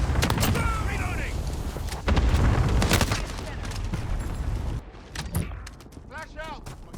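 Airstrike explosions in the Modern Warfare video game crash through heavy, sustained gunfire and battlefield noise, with a big booming surge in the middle and sharper blasts toward the end, while voices call out over the din.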